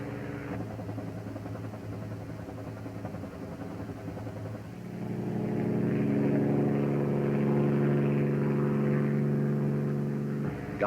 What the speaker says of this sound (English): Gunships launch and are directed to the area by the forward air controller.